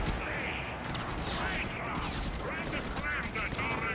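Pistol gunfire in the shooter game Warframe, rapid dense shots blending into a continuous loud barrage with game effects, close and unbroken throughout.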